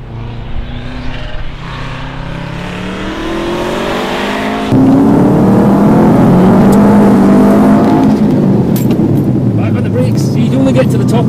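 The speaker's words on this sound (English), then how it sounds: "So we're going there now in the Subaru." Subaru WRX engine running and revving on the way to an autotest circuit in Ayrshire, a loud close in-car drone that climbs in pitch through the gears as someone talks over it.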